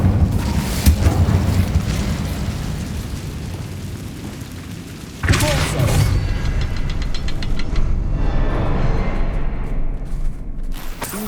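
Casting the Incendio fire spell in Hogwarts Legacy brings loud, roaring, crackling bursts of flame. A fresh sharp blast sounds midway and is followed by a sustained fiery rumble with sparkling crackles.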